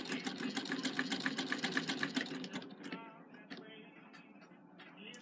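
A hand-crank sewing machine runs in a close, rhythmic run of rapid stitching ticks for about two and a half seconds, then slows to scattered faint clicks and mechanical handling.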